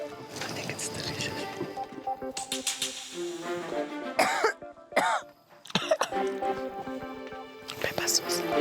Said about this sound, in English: That peppercorn is hitting at the back of my throat. I keep coughing